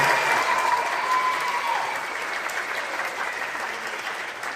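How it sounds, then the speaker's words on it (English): A school concert audience at a middle school band Christmas concert gives sustained applause for the soloists. The clapping is dense and continuous, slowly fading a little. "let's give these soloists a big round of applause"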